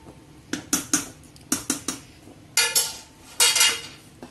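A spoon stirring Pancha Ratna payasam with fried banana, peanuts, cashews and coconut bits in a pan: a run of close metallic scrapes and clinks in uneven bursts, with two longer scraping strokes near the end.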